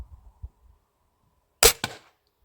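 Two pellet rifle shots crack out back to back, sharp and loud, with a brief gap between them after a stretch of quiet handling noise.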